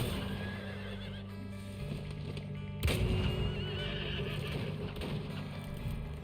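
A horse whinnies in the video game Weird West, a wavering neigh amid hoof clopping and game ambience, moderately loud over a busy background.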